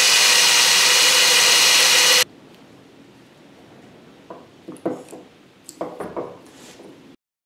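A power drill bores holes through a driftwood beam for a beach seashell mobile. It runs loud and steady for about two seconds, then cuts off, leaving faint clicks and knocks of handling.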